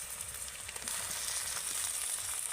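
Onion, ginger-garlic paste and chopped tomato sizzle steadily in hot oil, a soft continuous frying hiss with no voices.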